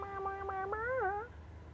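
A mini pet cat in the video game Guild Wars 2 gives one clear meow that swoops up and then down in pitch, heard alone at moderate loudness.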